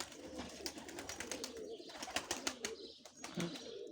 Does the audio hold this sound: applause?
no